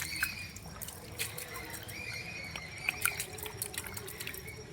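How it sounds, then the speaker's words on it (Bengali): Water sloshes and drips softly in a bucket as lentils and pumpkin are washed by hand, with light splashes and trickles at close range and no talk. "এইবার এই বালতির মধ্যে জল দিয়ে এই যে এইবার ধুচ্ছি"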